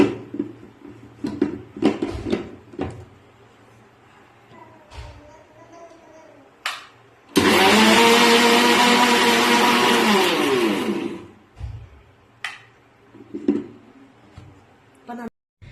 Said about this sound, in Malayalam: ഏലക്കായി, 5 ഗ്രാമ്പു, പിന്നെ കുറച്ച് പട്ട എല്ലാം കൂടി നമുക്കൊന്ന് ജാറിൽ മിക്സിയിലൊന്ന് അടിച്ചെടുക്കാം